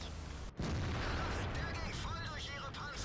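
A Pz Sfl V tank destroyer's gun fires in World of Tanks, one sharp loud blast followed by a rumbling game battle ambience with no talk over it.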